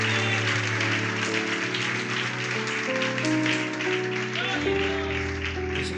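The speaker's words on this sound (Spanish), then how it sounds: "Aplausos al Señor, hermano." Applause during a Wednesday evangelical church service in Barquisimeto, Venezuela, a dense steady clapping from a congregation lasting throughout, mixed with a sustained organ or keyboard chord and some voices.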